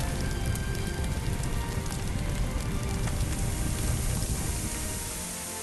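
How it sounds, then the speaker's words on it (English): Fire hose spraying water in a firefighting video game, a steady close rain-like hiss that thins slightly at the end, with no voices. "Spray water by using the indicated button."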